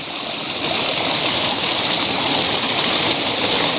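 Tirathgarh waterfall pours steadily, a dense, continuous roar of rushing water that holds loud and even from start to finish with no voices.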